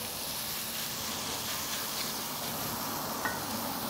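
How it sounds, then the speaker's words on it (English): Bacon frying in a pan over medium heat while its fat renders, giving a steady, continuous close sizzle and hiss that holds level throughout with no talking. "we're cooking the bacon over."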